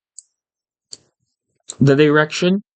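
Three crisp, isolated computer mouse clicks in a quiet room, evenly spaced, followed by a person speaking.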